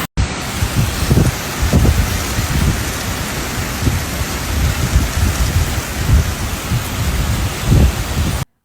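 Torrential rain pours steadily during a thunderstorm in Honolulu, Hawaii, a dense loud hiss with low rumbles of thunder and gusting wind throughout.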